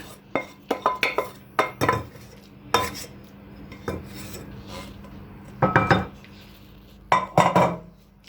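A spoon stirs and scrapes a minced-meat börek filling in a bowl, making loud close clinks against the bowl and rubbing, squelching strokes in uneven bursts with short pauses.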